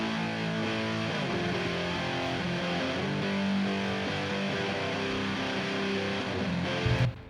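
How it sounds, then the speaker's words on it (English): Three reamped, distorted electric guitars, one through a 5150 amp, play together as a dense, sustained wall of heavy chords that stays loud throughout. "Altogether, these three dirty guitars sound like this."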